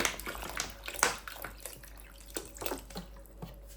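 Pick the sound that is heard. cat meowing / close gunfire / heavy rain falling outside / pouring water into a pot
pouring water into a pot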